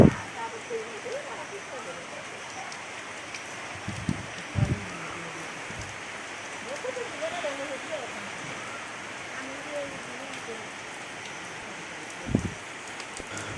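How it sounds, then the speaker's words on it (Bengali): Rain falls outside in a soft, steady patter, with faint muffled voices and a few louder knocks. "দেখতে পাচ্ছ তো বাইরে বৃষ্টি পড়ছে"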